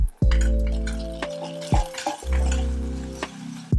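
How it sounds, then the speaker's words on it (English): A spoon stirring slurry, tomato puree and yeast extract in a pan, close scraping and soft sloshing strokes in a few bursts over a low, steady tonal hum. "let's give that a stir"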